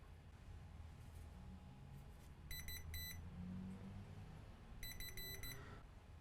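A multimeter in continuity mode beeps while testing circuit board traces on an HP Spectre 13-4116DX laptop and Beats Pill 2 speaker, with two groups of short, repeated, high beeps over a quiet background hum.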